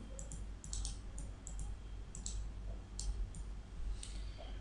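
A computer mouse clicks repeatedly while working in CATIA V5 software, about a dozen light, crisp clicks arriving singly and in quick pairs close by over a low hum.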